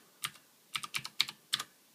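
Clicky keystrokes on a Ducky Shine II mechanical keyboard with Cherry MX Blue switches, arriving as five short bursts of two or three sharp clicks each, close and crisp over near silence.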